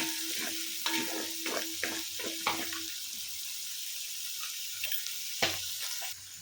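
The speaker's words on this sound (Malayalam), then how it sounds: "ഇതിൻ്റെ ഇടയിൽ ഞാൻ പച്ചമുളകും വേപ്പിലൊക്കെ ഇട്ട് കൊടുത്തിട്ടുണ്ട്" Green chilies and curry leaves sizzle in hot oil for sardine pickle, making a loud, continuous crackling hiss close by, with a few clinks of stirring near the start and no talking.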